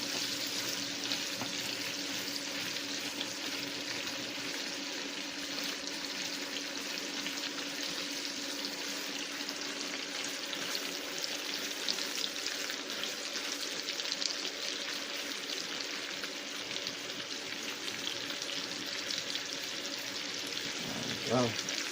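Jumbo tiger shrimp sizzle steadily in a hot pan, a dense, even crackling hiss at close range that runs throughout, with a clatter near the end.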